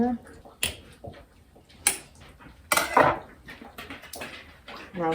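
A glass jar filled to the top with cucumbers in pickling liquid is tapped and knocked, giving several sharp, close clinks and thuds at irregular intervals while someone talks nearby.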